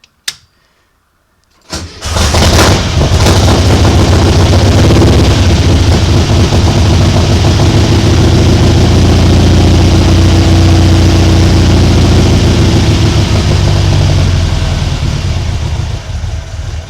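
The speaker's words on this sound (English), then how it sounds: "Let's go for a putt. Cold start." Cold start of a 2-liter tub buggy engine: a brief crank, a short pause, then the engine catches and settles into a loud, steady, rumbling idle that holds to the end.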